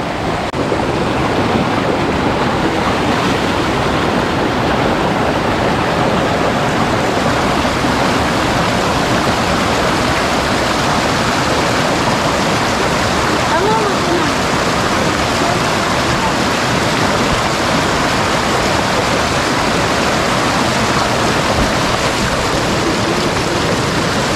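Balo Falls on the Balo River in Davao City pours in a loud, constant broadband roar that fills the whole stretch without a break.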